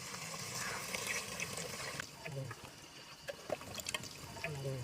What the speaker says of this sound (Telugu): చింతపండు పులుసు పోస్తుందా.